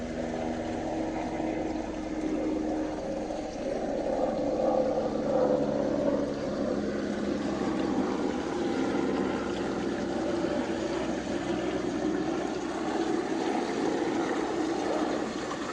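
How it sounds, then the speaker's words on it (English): Airplanes passing overhead above a backyard koi pond, a faint steady broadband roar that swells gently and fades slowly, with no speech. "Couldn't do anything about those airplanes"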